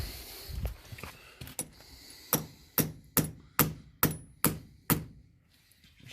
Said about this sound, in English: Because you can always tap it in a little further, but you can't pull it back out.